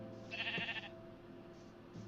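Sheep bleat in the Minecraft video game, one clear close bleat near the start followed by fainter, shorter bleats, over a steady low background hum.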